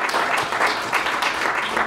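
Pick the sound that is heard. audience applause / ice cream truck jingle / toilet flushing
audience applause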